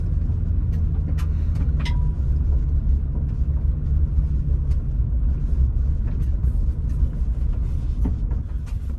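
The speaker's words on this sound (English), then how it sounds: "you go on a dirt road like this, you're gonna have rocks slung all over your vehicle" A 2021 Toyota Sequoia TRD Pro rolls along a dirt trail, a constant low engine and tyre rumble heard from inside the cabin, with scattered faint clicks and knocks of gravel against the body.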